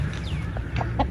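A rooster that appears to have fought with mongooses gives a few short clucks close by, against a low steady background rumble.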